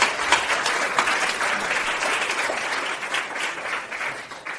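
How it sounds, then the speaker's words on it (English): An audience at a conference paper session claps steadily for several seconds, a dense even applause that fades slightly toward the end. "let's give another round of applause to all the speakers"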